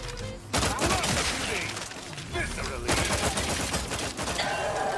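Burst rifle gunfire in The Outer Worlds 2, loud rapid bursts of shots repeating across the clip with game effects and music mixed underneath.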